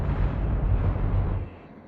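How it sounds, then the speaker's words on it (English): A giant explosion in the space game EVE Online, a loud sustained rumbling blast of dense low roar that holds for about a second and a half, then drops off into a fading tail. "Giant explosion."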